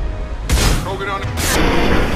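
Gunfire in the video game Mass Effect 2 comes as a couple of loud, bursting shots over a constant background of game noise and rumble, filling the short span.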